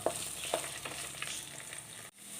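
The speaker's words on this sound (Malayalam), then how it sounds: "ലോ ഫ്ലെയിമിൽ വെച്ചോണം അത് വഴറ്റിയെടുക്കാം അല്ലെങ്കിൽ കരിഞ്ഞു പോകും" Okra (ladies' finger) fries gently in oil on a low flame in a pan, giving a soft, continuous sizzle broken by a few scraping stirs of the spoon, heard close up with no talking.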